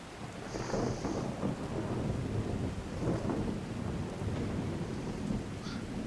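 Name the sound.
thunderstorm in the video game Skyrim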